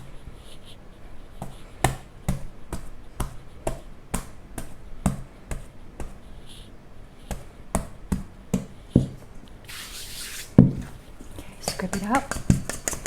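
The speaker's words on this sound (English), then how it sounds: "I'm going to punch the dough." Wholemeal tangzhong bread dough being punched down, a string of sharp, close thumps and taps at a fairly even pace, followed near the end by a brief burst of rustling noise.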